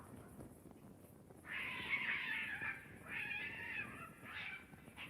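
Cats fighting and caterwauling in Kingdom Come: Deliverance II, drawn-out wavering yowls rising and falling over several seconds at moderate distance against a quiet background.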